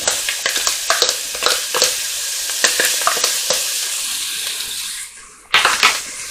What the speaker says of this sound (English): I've also got 2 garlic cloves which I've just chopped up, and I'll add them in